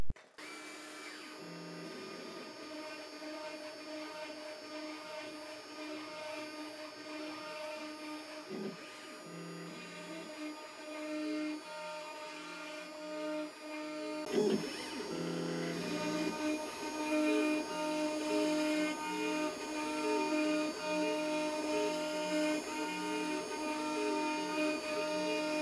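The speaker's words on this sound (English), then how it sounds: "And that's what I'm going to use to cut those F-holes." A CNC router cutting F-holes into the body of an electric violin, a loud sustained mechanical whine and hum with shifting tones as the bit moves, growing fuller partway through and running steadily to the end.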